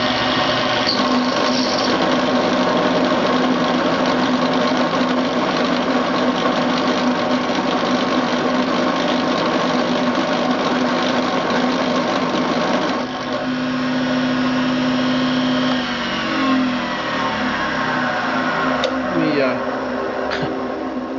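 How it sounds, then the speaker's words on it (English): A milling machine plunges and then mills a hole in a workpiece clamped on a rotary table, giving a steady loud mechanical whir with a sustained tone that shifts in pitch near the end as the cut changes. "The first thing I'm going to do is a plunge, and then after that I'm going to lock it down at that depth and start milling a hole out."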